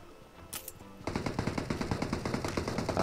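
Rapid automatic fire from an AUG rifle in a shooting video game starts after a brief quiet lead-in, then runs as a loud, continuous rattle of closely spaced shots.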